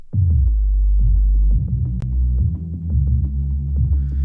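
A muffled, deep drum and bass bass line pulses in a chopped, throbbing rhythm through a low-pass filter, dull and rounded with the highs rolled off, loud and alone.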